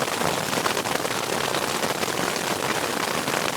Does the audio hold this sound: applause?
no